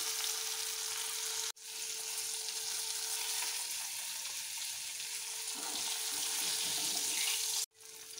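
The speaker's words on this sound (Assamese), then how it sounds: "একে তেলতে আলু টুকুৰা মানো ভাজি ললো" Continuous hissing sizzle of potato pieces frying in hot oil, with a couple of abrupt cuts and some stirring noise toward the end.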